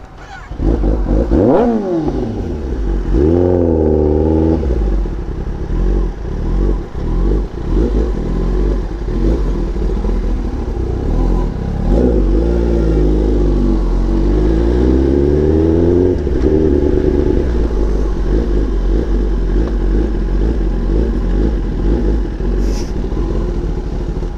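A motorcycle engine runs loud and close throughout as the bike is ridden into a storage shed, with repeated rising revs and clattering mechanical noise over a steady low rumble.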